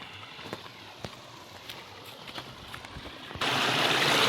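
Muddy water gushes out of a running motor water pump in a steady, rushing splash. The flow grows suddenly louder and fuller near the end, and no one speaks.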